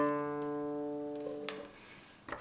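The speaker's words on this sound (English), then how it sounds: "using your thumb, which is the thumb pick, to play the 4th string open" Open 4th string of a banjo plucked with a thumb pick, a single clear twangy note ringing and slowly decaying, followed by faint handling clicks, close and alone.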